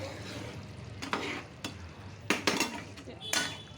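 Lid set onto a cooking pot of palak paneer, with a few sharp metallic clanks and rattles of the lid against the pot, close and fairly loud over a faint kitchen background.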